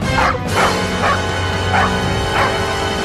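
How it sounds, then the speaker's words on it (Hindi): A dog barks about five times at an irregular pace, loud and close, as it approaches a house, over a steady background bed without talk. "अरे ये कुत्ता तो हमारे घर की तरफ ही आ रहा है।"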